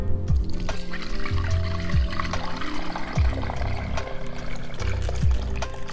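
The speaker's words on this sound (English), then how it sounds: "Now I'm going to attempt to transfer this into another pot without making a huge mess." Braised Chinese red-cooked pork belly and its liquid pour from one pot into another, a close splashing glug broken by repeated heavy plops as chunks drop in.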